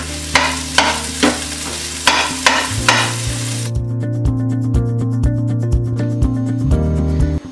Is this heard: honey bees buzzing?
no